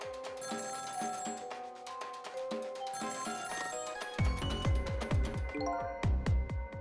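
An in-game telephone in Ghost Trick rings in repeated electronic bell trills, clear and steady, with a louder, lower-pitched stretch of rings toward the end.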